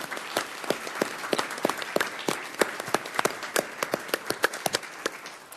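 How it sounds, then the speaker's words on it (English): Audience at a Pinal County Board of Supervisors meeting gives deputies a round of applause: dense, steady clapping from many hands, fairly close and sustained throughout, with no talk over it. "may I ask all of you to share a big round of applause"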